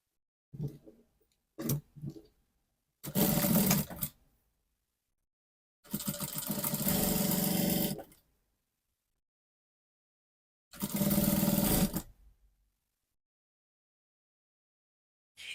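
A sewing machine hems the sleeve opening of a flared blouse in several short runs of one to two seconds, separated by silent pauses, close and clear with no talk.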